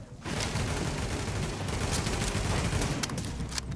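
Dense, continuous gunfire in the video game The Division rattles without pause, bursts piling on each other in a loud, relentless barrage.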